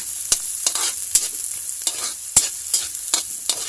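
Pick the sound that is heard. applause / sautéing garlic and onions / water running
sautéing garlic and onions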